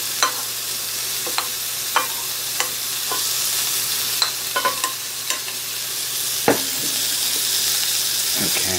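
Onions frying in a hot pan for Salisbury steak give a steady close sizzle, punctuated by scattered clicks and scrapes of stirring, with one brief spoken word.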